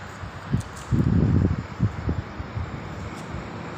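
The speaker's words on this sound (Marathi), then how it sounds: "हा वाऱ्याचा आवाज आहे" Wind blows through a stand of trees at least 40 to 50 feet tall, gusting in low rushing surges that swell and fade over a steady airy background, with no voices.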